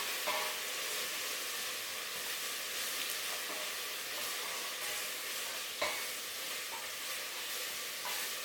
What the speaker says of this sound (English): So right now, I'm just going to stir that around.